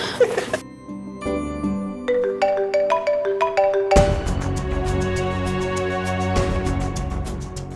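A melodic electronic phone ringtone plays rising chime notes, then shifts into a fuller, busier repeating jingle that keeps ringing.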